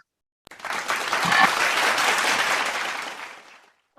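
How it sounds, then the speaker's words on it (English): Sustained applause from a group at a morning church devotion starts abruptly, holds steady for about three seconds, then fades out. No talking. "Let us give a virtual applause to our heavenly parents and true parents"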